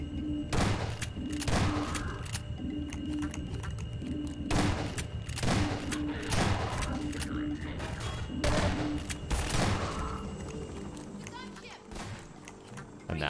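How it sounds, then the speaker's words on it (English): Shotgun fire in the Half-Life video game: a series of heavy booming blasts at roughly even intervals over busy game noise, with a voice talking at times. "You've severely underestimated the power of my shotgun."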